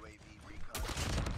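Burst of gunfire in a video game shooter striking the player, a sudden loud crackle of shots breaking in halfway and continuing densely to the end, with a voice talking in the first half.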